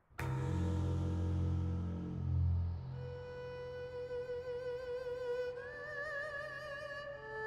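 A slow, gentle lullaby melody on an erhu with expressive vibrato, rising over a sustained low drone and soft orchestral backing.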